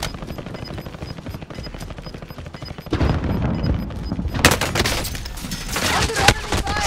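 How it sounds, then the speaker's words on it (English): Dense gunfire in a Call of Duty quads match: rapid automatic bursts and overlapping shots, growing heavier and louder midway into a sustained close barrage, with faint game chatter underneath. "Under enemy fire!"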